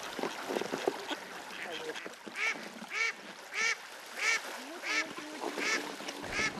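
Hundreds of ducks wintering on an unfrozen river in bitter frost quack in a loud, close series of repeated calls, roughly one every half second, with lower honks and murmurs between.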